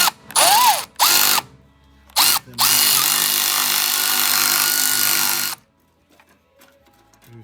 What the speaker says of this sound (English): Just got to unloosen the main muffler clamp right there.